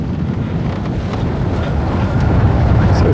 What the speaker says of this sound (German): Mit kleingemachter Genua schippe ich jetzt ganz gemütlich weiter durch die schwedische Schärenwelt. Es hat so zwischen 16 und 20 Knoten Wind.